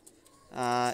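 A Pakistani high-flyer pigeon coos loud and close in a steady stretched call in the second half, after a quieter stretch of faint background sound.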